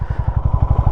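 A vehicle churns slowly through powder-fine sand on an offroad track in Zanskar, its engine thudding in a steady, rapid low pulse, close and loud, with no voices.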